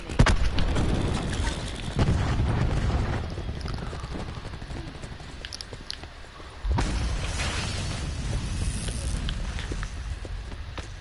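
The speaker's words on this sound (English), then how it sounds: "Throwing cluster grenade." Cluster grenade blasts in the Black Ops 4 shooter game: a heavy low boom opens, then a second strong burst hits around the middle, with scattered crackling debris and rumbling between the explosions.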